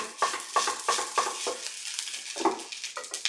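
A utensil scrapes and stirs rice in a hot riveted frying pan, a steady series of sharp scraping strokes about twice per second over a faint sizzle.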